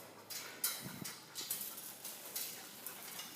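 Dogs' claws click and clack on the ground outdoors during a walk, a scattered run of light taps, some louder near ones, over faint background noise with no talk.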